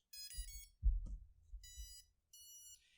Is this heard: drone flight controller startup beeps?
yes